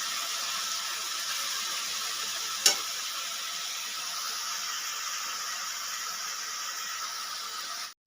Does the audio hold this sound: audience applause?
no